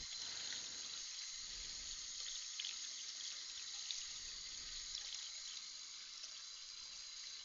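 Tap water runs steadily into a sink while steel bowls and controller parts are washed, a continuous hiss of flowing water with faint clinks and splashes underneath.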